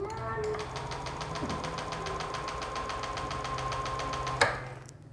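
A 2018 Honda Lead 125 Smartkey scooter engine runs at a steady fast idle during an ignition sensor test. It gives an even, rapid ticking hum that ends in a sharp click and fades out.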